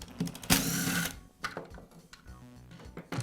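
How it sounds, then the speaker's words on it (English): A belt cover comes off a Makita belt sander during a drive-roller repair, giving a few sharp plastic-and-metal clicks and rattles with a louder clatter near the start, close by with no talk. "Now I can remove the belt cover."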